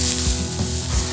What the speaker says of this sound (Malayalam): നമുക്കിത് വറുത്തെടുക്കാം